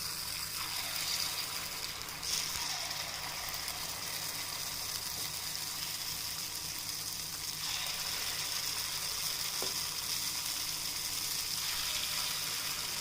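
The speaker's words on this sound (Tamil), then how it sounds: "இப்போ ஒரு சின்ன குழிக்கரண்டியில் எல்லா இதுலேயும் இந்த மாதிரி மாவை ஊற்றிக்கோங்க" Paniyaram batter sizzles in a hot paniyaram pan, a steady close hiss of frying holding evenly throughout with a few faint clicks and scrapes.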